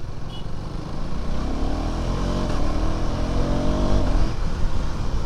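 Heavy road traffic in Tripura with cars and motorcycles jammed together, a steady loud engine drone with rising revs and a passing motor whine, continuous throughout with no talk.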